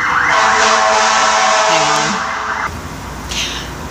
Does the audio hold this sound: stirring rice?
no